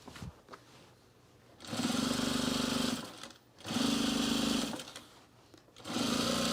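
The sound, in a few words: sewing machine sewing rug binding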